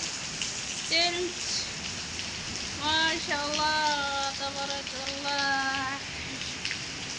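Steady rain pours down in Saudi Arabia, a dense even hiss throughout, while voices speak in stretches over it.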